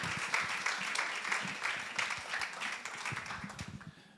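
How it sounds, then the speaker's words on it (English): A church congregation at a worship service claps for a visiting pastor, a dense, even wash of applause from many hands filling the room for a few seconds, with some faint voices mixed in. "let us give him a wonderful, honorable and respectful and loving clap offering"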